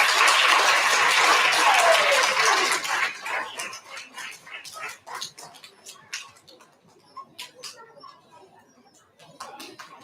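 Applause at an elementary school recognition ceremony for STEM and special area nominees: a loud, dense burst of clapping for about three seconds, then thinning to scattered claps that trail off, with a sharp few claps again near the end.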